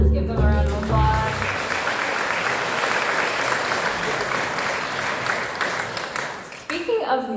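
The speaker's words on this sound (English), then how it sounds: "Let's give them a round of applause." Audience applause at a ceremony fills the room as a dense, steady wash of many hands clapping, loud and sustained, with brief voices or music at the start and end.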